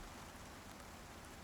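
Steady rain in the survival video game Icarus, a soft continuous hiss of falling drops with no talk, faint and even throughout.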